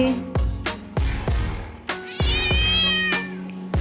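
A cat meows repeatedly and insistently up close, five or six sharp calls in a quick irregular rhythm, one of them longer and rising, with no other voices.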